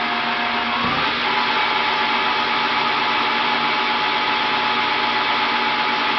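A ProtoTRAK 1840 CNC lathe spins at about 600 RPM, giving a loud, steady mechanical whir and hum, with a brief shift in pitch near the start as the speed changes.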